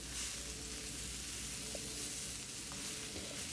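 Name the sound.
seasoned jackfruit and oyster mushrooms frying in cast iron pan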